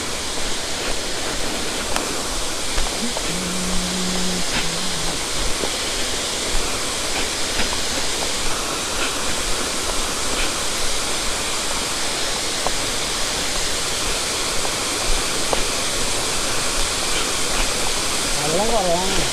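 Areekal waterfall in Ernakulam, running low on water, roars as a steady broadband rush of falling water that stays constant throughout, with faint brief tones and small sounds over it.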